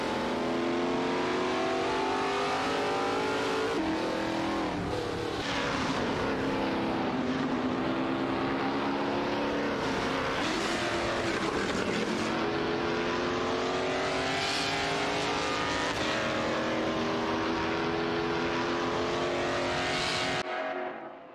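Several race cars roar through a video game race, Gelever Taiga rally cars among them, with a steady dense wall of engine noise, rising and falling revs and overlapping gear shifts the whole way through, cutting off abruptly at the end.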